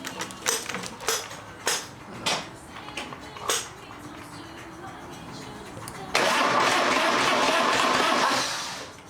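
A Harley-Davidson Twin Cam FXR motorcycle engine is cranked several times in short bursts with clanks, then catches and runs at a rough, steady idle before it begins to fade.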